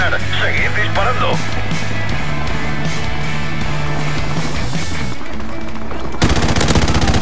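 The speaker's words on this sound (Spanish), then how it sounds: "Seguid disparando." Gunfire in Call of Duty Modern Warfare on PS4: continuous loud automatic shots and bursts, with players talking over the action throughout.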